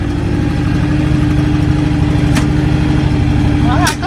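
A John Deere X724 lawn tractor with a 54-inch snow blower attached idles loudly and steadily up close, a constant low engine hum with a brief squeak near the end and no talk.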